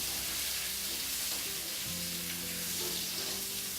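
Mustard seeds, onion, red chili and curry leaves stir-fried in hot oil for a South Indian sambhar tadka, giving a continuous close sizzle with the occasional scrape of stirring and no talking.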